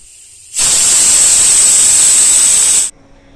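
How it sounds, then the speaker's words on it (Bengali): A pressure cooker boiling drumstick stalks lets out one loud, sustained hissing whistle of steam lasting about two seconds, cutting off abruptly. "দুটো সিটি দিয়ে আমি ডাটাগুলো এখানে সেদ্ধ করে নিয়েছি"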